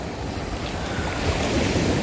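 Sea waves washing onto the Black Sea shore at Chornomorsk, a steady broadband surf wash with wind noise on the microphone, growing slightly louder toward the end, with no voices.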